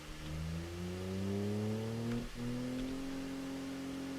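A very lightweight car in the BeamNG driving game revs its engine through the exhaust, one steady droning tone that climbs slowly in pitch, dips briefly and resumes, loud and continuous with no talk.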